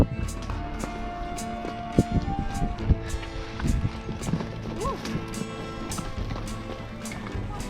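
Young horse walking on a trail after snowmelt on the way to an off-grid log cabin, hooves landing in faint, irregular thuds and scuffs close by.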